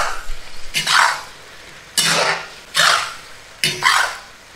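Braised winter melon being stir-fried in a wok with oyster oil and sugar: four sharp scraping, sizzling bursts of spatula against pan, evenly spaced and close, with no talk.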